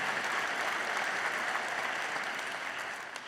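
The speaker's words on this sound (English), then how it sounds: "So a big hand of applause for all of them" An audience at an awards presentation gives dense, sustained applause that holds steady and fades slightly at the end, with no voice over it.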